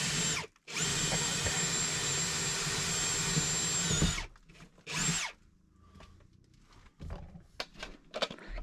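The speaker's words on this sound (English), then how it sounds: "I'm just gonna do like a pilot hole here." A power drill bores a pilot hole while an off-grid tiny bathroom is being built. It whines loudly and steadily for about four seconds, then gives one short burst, followed by quieter handling noises nearby.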